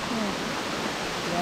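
Rushing water from a small waterfall beside a hiking trail, a steady broadband hiss close by with a brief faint voice near the start.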